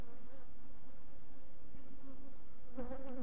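Honeybees buzzing around an opened hive fed on syrup, a dense loud steady drone with individual bees whining closer near the end.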